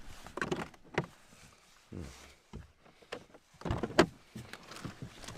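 A door clunks open and shut near a snow-covered car, mixed with shuffling steps and rustling movement that come in short, uneven bursts at close range, with no talking.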